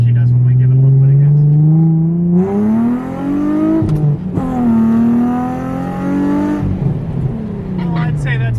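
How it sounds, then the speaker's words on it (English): A Nissan 350Z with a swapped JDM engine revs loudly up close: a sustained idle climbs into a rising rev, drops, then rises and falls again in smooth engine sweeps. "let's see how she does when we give it a little bit of gas"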